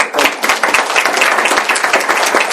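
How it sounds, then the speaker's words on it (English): A group at a school board meeting claps for students, a brisk close burst of many hands clapping in quick irregular rhythm, steady throughout with no voices. "I would just like to clap for the whole group"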